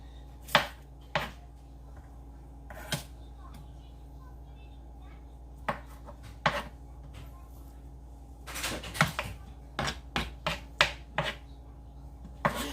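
A knife chops onions for tacos on a cutting board, giving sharp close knocks that come singly and irregularly at first, then in quicker clustered bursts near the end.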